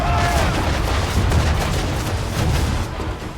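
Ship cannons fire in a broadside during a naval battle in the video game Assassin's Creed, a loud dense rumble of overlapping booms rolling on without a break.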